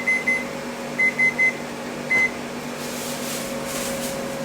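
A kitchen timer beeps in short electronic tones, two quick beeps, then three in a row, then one more, over a steady background hum, with no talking.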